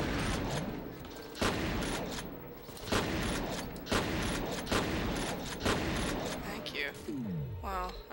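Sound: gunfire from the player's weapon in the video game F.E.A.R

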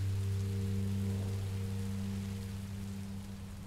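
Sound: rain falling in the video game Minecraft Story Mode

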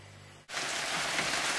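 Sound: rain falling

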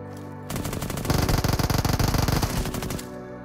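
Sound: FAMAS assault rifle gunfire in PUBG video game

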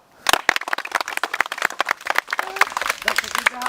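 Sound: crowd applause at village game

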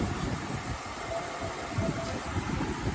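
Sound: BMW E60 car engine running, idling

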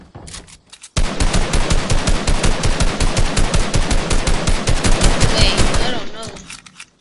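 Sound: gunfire in video game

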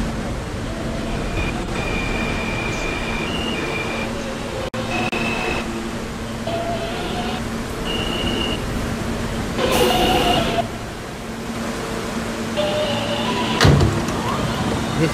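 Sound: subway train running

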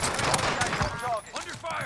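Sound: gunfire in the video game Call of Duty Warzone

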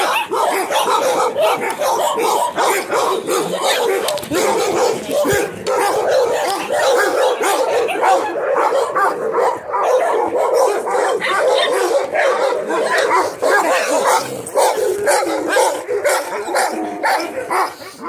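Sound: dogs barking

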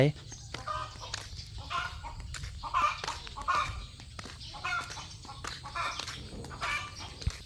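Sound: chickens clucking and cackling

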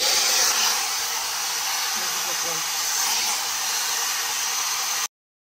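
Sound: Humanas hair dryer blowing

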